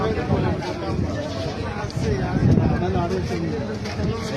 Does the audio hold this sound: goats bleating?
yes